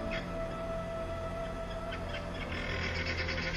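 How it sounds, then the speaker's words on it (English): Faint calls of exotic birds on a farm drift through a steady outdoor night ambience, a few distant chirps and hoots with a constant low hum beneath. "And you can hear some of the exotic birds on the farm."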